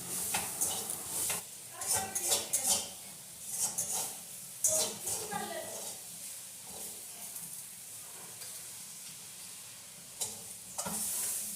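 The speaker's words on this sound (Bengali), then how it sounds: "এবার ভালো করে লেড়ে চেড়ে তারপরে নামিয়ে দেবো" Greens (saag) stirred in a pan over the heat, with scraping stir strokes and a soft sizzle of frying that come in bursts over the first five seconds and again near the end, with quieter gaps between them.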